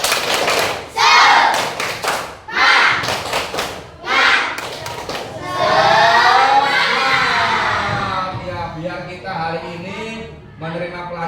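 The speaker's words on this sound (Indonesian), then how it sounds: "mari kita breaking dengan tepuk semangat, ya" A classroom of pupils performs a rhythmic spirit clap in bursts of quick, patterned claps, with children chanting and shouting along in lively phrases between and over the clapping.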